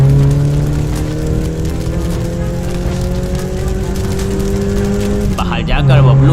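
Car engine in an animated zombie horror story, a steady loud drone with a slowly rising pitch as the car drives off, then a sudden shift near the end, with rain-like noise underneath.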